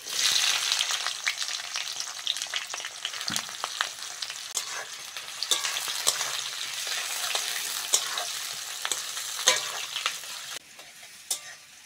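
Chopped onions frying in mustard oil with dry chillies and bay leaf, a steady close sizzle broken by clinks and scrapes of a spatula stirring the pan.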